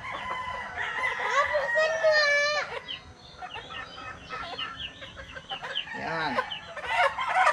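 Chickens on a poultry farm cluck and a rooster crows loudly close by, with further clucking and calls continuing throughout and brief talk mixed in.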